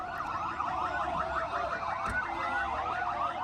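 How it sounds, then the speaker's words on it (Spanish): Civil defense sirens in Gaza City wail continuously, warbling up and down in overlapping tones at a steady, moderately distant level throughout. "la defensa civil gazatí hizo sonar las sirenas en Ciudad Gaza mientras cantaban y celebraban el anuncio"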